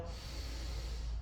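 A deep, steady inhale during a stretching workout in a garage, a breathy rushing sound held close to the microphone with no talk over it.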